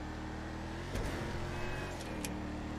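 A car engine in GTA V drives and revs steadily at mid pitch, moderately loud and close, with a brief rising surge about a third of the way through and no talk.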